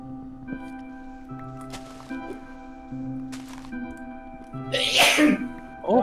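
A single sharp sneeze bursts out near the end, loud and close, rising over the steady hum and music of a Minecraft co-op game with bits of background noise before it.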